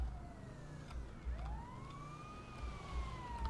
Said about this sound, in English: Oh, so many sirens.